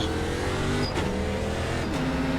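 ARCA race cars in the iRacing video game roar past at Bristol Motor Speedway, heard as two quick engine pass-bys over a steady loud engine drone.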